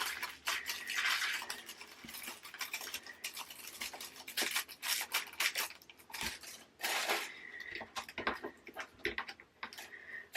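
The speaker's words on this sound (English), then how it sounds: "I think I've not cut that bag enough." Scissors snipping a plastic bag of diamond painting drills, close and fairly faint, with repeated crisp cuts, rustling plastic and small rattles of loose beads in an uneven rhythm.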